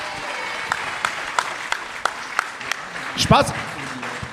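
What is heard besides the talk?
audience applauding a comedian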